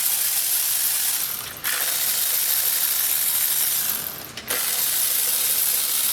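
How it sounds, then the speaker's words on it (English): A ratchet pulls bolts from a 2016 Buick Encore, producing a loud, continuous whirring hiss broken by two short pauses, with no voices. "I'm just gonna pull these bolts out."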